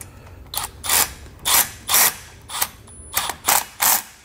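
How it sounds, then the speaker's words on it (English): Bracket bolts for a trailer brake controller mount on a 2018 Chevrolet being tightened with a Phillips head and a 10mm socket: eight crisp ratcheting bursts in an even rhythm, close and alone. "let's go ahead and tighten down these brackets together using a Phillips head and a 10mm socket."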